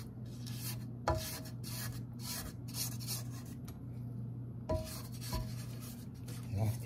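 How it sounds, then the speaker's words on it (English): Spatula scraping down the sides of a bowl of pound cake batter, a series of soft rubbing and scraping strokes over a steady low hum from the paused mixer. "Stop it here a minute so we can scrape down our sides."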